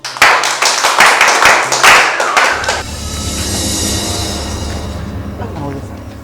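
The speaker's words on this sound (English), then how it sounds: "Clap for friends" Clapping for friends by a group of students at school, a burst of sharp overlapping claps and thumps for about three seconds, then fading into a low murmur of voices and room noise.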